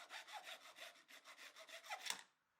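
Rhythmic back-and-forth handsaw strokes cut through the tabs on the end of a plastic drain pipe, about a dozen steady, close strokes that end with a sharper scrape as the piece comes free.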